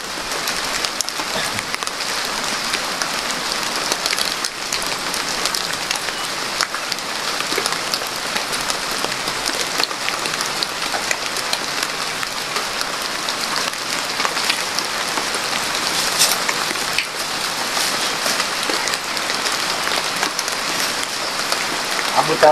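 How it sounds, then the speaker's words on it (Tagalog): Steady rain pours outdoors, a dense, even hiss of drops hitting surfaces that lasts the whole stretch. Faint voices are heard under it. "Abutan tayo sa ulan dito tol."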